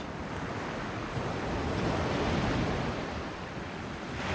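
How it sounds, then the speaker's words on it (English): Sea waves wash over rocks on a beach at Easington at dusk, a dense, steady roar of surf with gentle swells in loudness, mixed with wind noise on the microphone and no voices. "You hear the sea moving on the rocks?"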